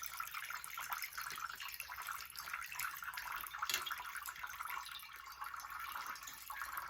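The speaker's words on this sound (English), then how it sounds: "water comes out of the holes in the bag." Water trickles and splashes steadily out of holes in a bag, a soft continuous pouring with small drips, close by and without speech.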